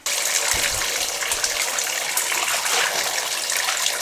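Water gushes steadily from a tap into a tub being filled to soak linen curtains, a loud, continuous splashing rush with a few deeper sloshes early on.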